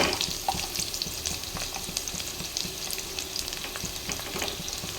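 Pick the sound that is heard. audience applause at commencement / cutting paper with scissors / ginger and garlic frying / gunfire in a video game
ginger and garlic frying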